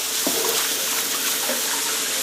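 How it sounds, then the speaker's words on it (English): Hot water pours steadily from a tap into a tank, a loud continuous rushing splash with no talk. "Filling up some hot water in the tank."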